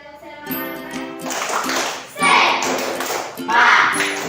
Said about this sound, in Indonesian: silakan ketua kelas pimpin tepuk semangatnya